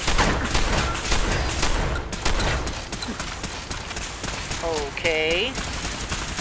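Gunfire in Fallout 4 crackles as a dense, continuous volley of rapid shots through the whole stretch, loud and close, with game sounds and a brief spoken word mixed in.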